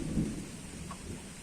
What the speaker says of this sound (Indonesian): Masya Allah hujan.